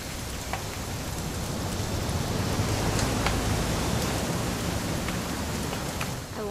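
Steady rain falling in the video game What Remains of Edith Finch, a dense, even hiss of drops with scattered sharper patters, continuous and fairly loud throughout with no talking.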